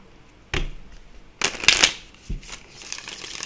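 Oracle cards being shuffled in a few quick, close riffling bursts separated by short pauses, with no talking.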